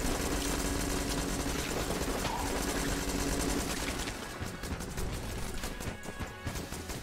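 Rapid gunfire from the Bullet gun in Enter the Gungeon, a dense continuous barrage of shots blending into a loud crashing wall of noise that thins into sparser impacts toward the end.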